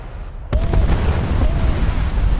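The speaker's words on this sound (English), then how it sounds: "Oh, that's a torpedo." A torpedo from the German battleship Scharnhorst strikes a ship in a naval video game, setting off a sudden heavy blast followed by a sustained, loud roaring rumble.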